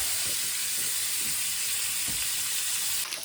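Mozzarella-and-cheddar-stuffed chicken breast sizzling in a hot pan, a steady loud hiss of frying with faint occasional knocks underneath, no talk.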